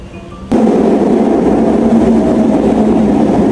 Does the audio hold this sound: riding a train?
yes